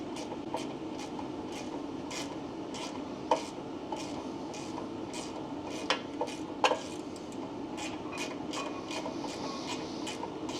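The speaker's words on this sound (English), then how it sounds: "a couple more screws here to take off to get this carburetor cover out of the way" Screws being removed from the carburetor cover of a snowblower, heard as a run of small sharp metallic clicks and ticks over a steady background hum, with a few louder clacks.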